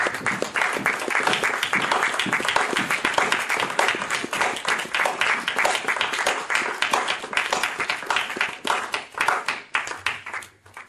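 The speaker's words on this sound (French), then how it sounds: "Applaudissons la parole." A church congregation applauds during a bilingual sermon, dense and energetic clapping from many hands sustained for about ten seconds, then tapering off near the end.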